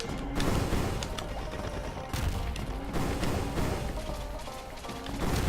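Gunfire from enemy mobs in the video game Risk of Rain, repeated bursts of shots and impacts recurring at irregular intervals over a busy layer of game effects.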